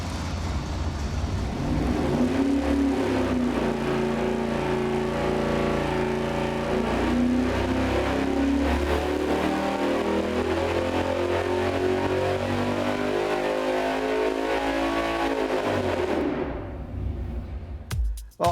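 A V8 engine on a dynamometer during a camshaft test pulls a long, loud, steady run as its pitch climbs and holds, then cuts off sharply near the end; no voices.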